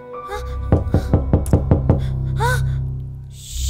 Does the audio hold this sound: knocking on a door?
yes